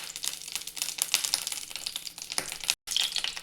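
Ghee sizzling in a hot kadhai while cooking sweet saffron rice, a crackly, spitting fry with fine pops throughout, close and fairly steady, with a brief dropout near the end.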